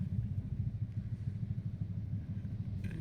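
A motorcycle rides along Rizal Avenue. Its mid-pitched engine drones steadily with a rapid, uneven pulsing throughout, heard close and fairly quiet.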